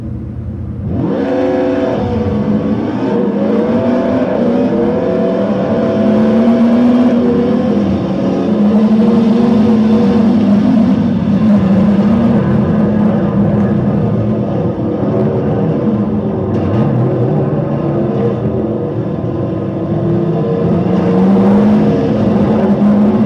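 Race car engines in the TORCS racing game, a continuous droning whine that rises and falls in pitch as the cars accelerate and shift, steady and fairly loud for the whole stretch.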